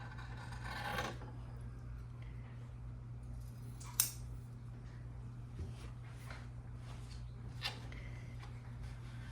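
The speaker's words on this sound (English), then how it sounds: "And then I just take a pair of scissors" Scissors snip through quilting fabric for a window wall hanging in a few scattered, crisp cuts over a low steady hum.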